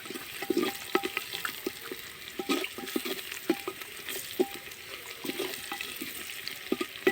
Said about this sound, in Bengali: দেখুন পেঁয়াজটা প্রায় ভাজা ভাজা হয়ে এসছে